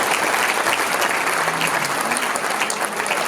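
Audience applause at a Hilloula for Rabbi Haim Pinto in Marseille: dense, sustained clapping from a large crowd, loud and even throughout with no pauses.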